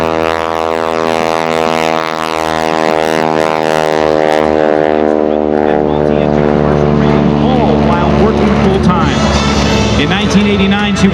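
Aerobatic propeller airplane making a low photo pass at the 2013 Sun 'n Fun air show, its loud droning engine steady and close, rising slightly as it passes, with an announcer talking over it.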